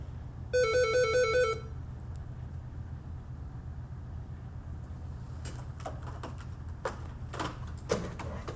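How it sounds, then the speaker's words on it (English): A telephone ringtone sounds in a quiet room, a rapid electronic trill lasting about a second, followed by soft scattered clicks and faint background hum. "sorry about the phone."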